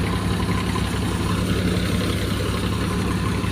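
A Sonalika tractor engine drives a wheat thresher, a continuous, even, low mechanical rumble and hum with no breaks, fairly close and alone.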